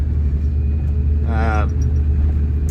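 Steady, heavy low-end rumble from a cammed big-block 1991 Chevy 3500 dually cruising the road after sitting seven years, with one rear brake dragging; a brief voice cuts in midway.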